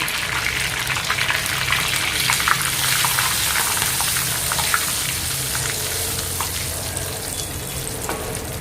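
Ground gongura (sorrel leaf) chutney frying in a pan, giving a loud, continuous close-up sizzle with soft stirring and spattering throughout.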